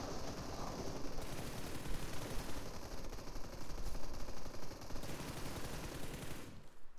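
Sustained automatic gunfire from a shooting video game, dense and continuous for several seconds before cutting off abruptly near the end, with no talk over it.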